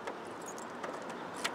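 Keys jangle faintly on a keyring with sparse light metallic clinks, almost lost in a steady background rush.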